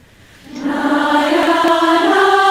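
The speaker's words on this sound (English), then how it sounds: "you can hear in the background there's little clicks and there's pops and there's noises and there's people singing" Children's choir singing, sustained voices swelling in after a quiet start and holding steady, with faint clicks and pops scattered in the background.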